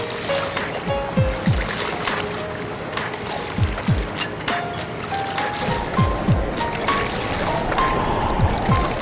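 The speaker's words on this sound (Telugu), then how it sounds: "ఎంత ప్రశాంతంగా ప్రయాణిస్తుందో పడవ" Water sloshes and splashes around a moving boat, with a steady wash of flowing water and small lapping sounds close by.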